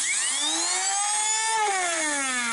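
A Midwest-type low-speed dental attachment spins on a maintenance station, a steady high-pitched whine that dips slightly in pitch midway and continues alone, close and loud.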